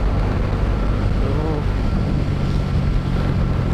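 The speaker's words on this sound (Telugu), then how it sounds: "క్రాస్ విండ్ ఘోరంగా వస్తుంది." A strong crosswind buffets a motorbike rider on the road from Kanyakumari to Dhanushkodi, a loud constant roar of wind against the microphone that masks everything else.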